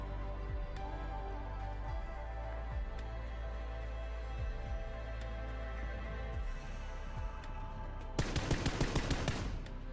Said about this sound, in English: I heard this guy up here shooting at someone else